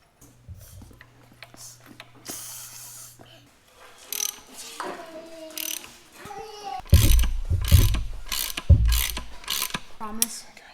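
Puller removing the crankshaft pulley from an LS LM7 5.3 V8 engine during disassembly, with rapid ratchet clicking, metallic creaks and clanks, and bursts of louder tool work near the end; people speak briefly in between.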